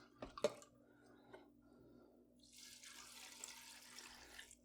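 Water runs steadily from a tap after a few soft knocks, a hissing stream that starts partway through and continues, fairly quiet and close.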